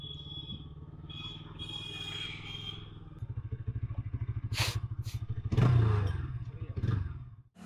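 A Bajaj NS200 BS6 motorcycle with a noise fault idles close by, its engine putting out a steady low thrum that later shifts into a faster, rhythmic putter with clattery bursts and a brief rev.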